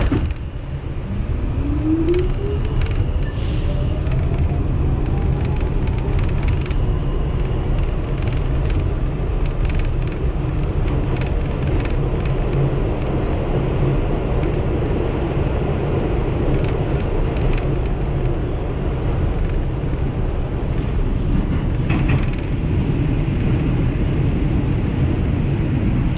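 A New York subway train rolling along toward 96th Street, a steady loud rumble and rush of wheels on track filling the whole stretch, with a faint rising whine early on and brief rattles and clanks.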